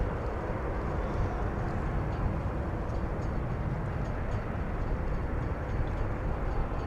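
An American Airlines Boeing 787 Dreamliner moves at DFW Airport, heard as a steady, loud, low engine rumble that drones on without a break, with no clear voices.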